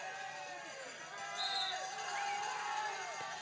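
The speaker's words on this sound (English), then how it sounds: "The crowd going absolutely crazy at the bottom of the track, waiting for this" Crowd of fans at the bottom of a downhill mountain bike course in Loudenvielle, cheering and roaring steadily from a distance, a broad sustained wash of noise that swells midway.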